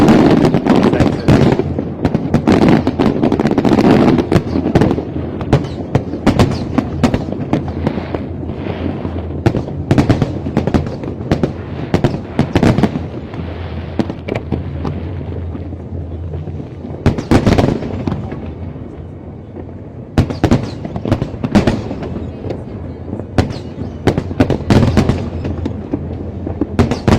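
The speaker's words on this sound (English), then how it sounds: "you are watching the Hong Kong Lunar fireworks display, Lunar New Year fireworks display" Lunar New Year fireworks burst over Hong Kong in a dense finale barrage, loud booms and crackling pops overlapping in rapid clusters with brief lulls, rumbling echoes trailing each volley.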